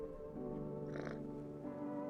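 A cat purring while being petted in a video game, a short soft purr with a brief brighter burst in the middle over steady background game sound.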